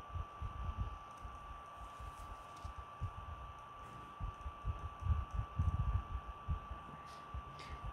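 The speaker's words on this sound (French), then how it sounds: "j'espère que le bruit du ventilo vous embête pas trop" A small electric fan running in a room during a UV resin crafting session, a steady low hum with a constant tone and faint rumbling throbs throughout, no talk.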